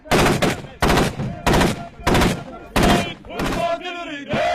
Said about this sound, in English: You can hear them replying, they're firing back towards this farmhouse.